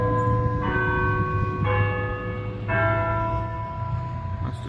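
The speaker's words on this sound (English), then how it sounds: "That's the church bells going." Church bells ring out over a cemetery in Salisbury, North Carolina, three clear struck tones with long sustained, shimmering decay over a low steady background hum.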